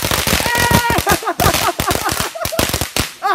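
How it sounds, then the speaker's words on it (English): Rapid bursts of loud fireworks cracking and popping in dense volleys, with excited voices shouting over the explosions. "A lot fireworks coming!"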